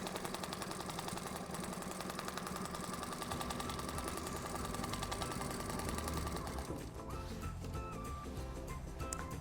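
Sewing machine free-motion quilting a table runner panel, a steady fast mechanical needle chatter that runs continuously and close, then changes pace near the end.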